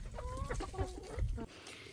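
Chickens in a muddy backyard coop cluck and give short warbling calls, close by, several overlapping in quick succession before trailing off.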